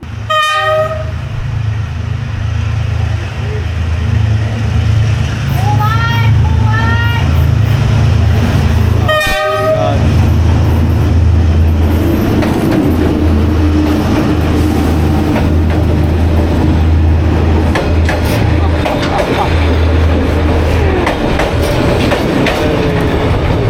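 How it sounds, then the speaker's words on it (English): A train in Hanoi passes extremely close by, opening with loud blasts of its horn, a few more honks as it nears, then a roaring, rumbling rush of rail cars clattering past for a long stretch. "The train was so close to my feet."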